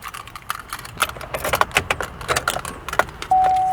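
Keys jangle and rattle in quick, irregular clinks close by as a GMC Sierra pickup is started. A steady electronic chime sounds near the end.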